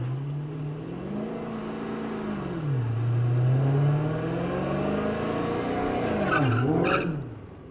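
Drag race car at a drag racing school, engine held near 3,500 rpm under throttle then revved higher, a steady droning roar that climbs and dips, loud and close with no talk.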